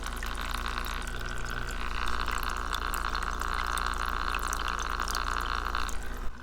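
Steady mechanical hum with a bright tonal band from a Marineland Penguin aquarium filter, running continuously beside trickling, splashing water, close and fairly loud.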